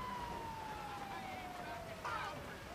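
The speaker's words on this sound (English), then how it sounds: "There's fire trucks coming from all over." Sirens of fire trucks converging in the GTA Online video game, a steady descending wail running throughout at moderate loudness, with a brief second siren tone joining near the end under a busy background.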